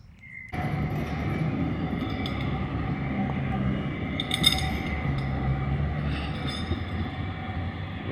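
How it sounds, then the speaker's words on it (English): A tram rumbles past on a cobbled street, a loud continuous low roar with metallic clinks and a faint squeal, close by and sustained throughout, with a voice briefly audible over it. "There goes the tram."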